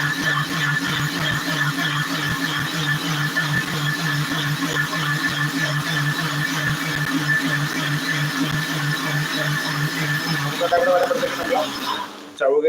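A mixer grinder grinding chana dal whirs steadily at high speed for about ten seconds, then winds down and stops.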